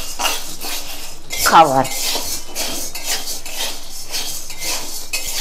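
Sago pearls are stirred in a hot kadai with steady, close scraping and rattling of the spoon against the metal pan, with a brief voice heard partway through.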